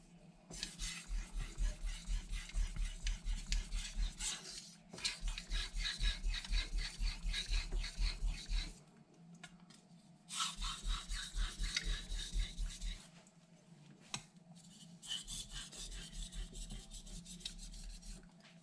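A knife is sharpened on a soft Naniwa Aotoshi whetstone with slurry, giving close, rhythmic rasping strokes in several bursts separated by short pauses, with no talk.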